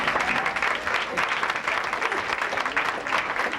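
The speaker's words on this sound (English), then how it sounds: "Please give Albert a round of applause." An audience at a music seminar applauds steadily, a full dense wash of clapping from many hands that holds at an even level for the whole stretch.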